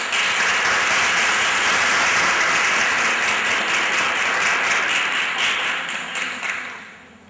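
Audience at a staff meeting breaks into sustained applause and clapping to welcome a presenter, a dense steady wash of many hands that holds loud for several seconds before tapering off near the end.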